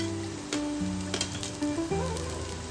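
Vegetables for momos sizzle steadily in a hot pan, a dense continuous frying hiss with a few brief clinks and scrapes from stirring, close and alone.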